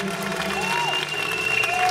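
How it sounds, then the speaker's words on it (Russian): Audience applause with scattered cheering at a children's Latin ballroom dance championship for under-nines, a steady wash of clapping from a crowd in a large hall. "приветствуем аплодисментами"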